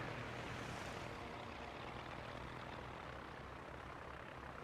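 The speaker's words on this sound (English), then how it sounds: "And now torpedo bombers." Propeller aircraft engines of torpedo bombers droning steadily in the World of Warships naval game, a continuous loud airplane hum with no speech over it.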